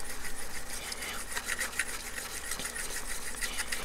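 A Woodriver block plane blade honed on a sharpening stone, a close, steady scrubbing rasp of steel moving back and forth with soft repeated strokes.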